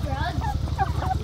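Farmyard fowl cluck and chatter in a busy, continuous flock, close and fairly loud, with a steady low rumble of background noise beneath the calls.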